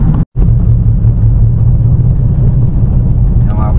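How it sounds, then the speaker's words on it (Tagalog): Low, steady rumble and vibration inside a Ford Ranger pickup with worn tires, droning continuously at close range with a brief dropout near the start. "yung vibrate ng sasakyan natin. Yan ang ingay."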